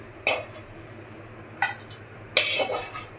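A spoon stirs and scrapes dry semolina (rava) roasting in a pan for kesari. Three or four brief metallic clinks and scrapes come at uneven intervals against a quiet background, with the busiest cluster near the end.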